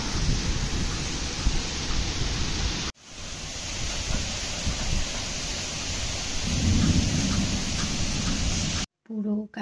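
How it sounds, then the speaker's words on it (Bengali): A heavy rainstorm with strong wind, a loud continuous rushing wash of rain with a low thunder rumble swelling in the later part, broken by brief cuts. "কি আওয়াজ ঝড়ের"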